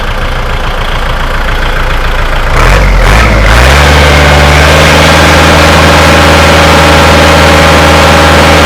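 A used Kubota walking tractor engine fitted with an aftermarket racing exhaust starts up with a brief burst of sputters, then settles into a loud, steady, close idle with a deep throbbing chug that carries on to the end.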